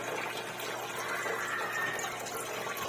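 Filtration in a crayfish aquarium tank runs with a steady, faint wash of trickling, bubbling water, continuous and unchanging throughout.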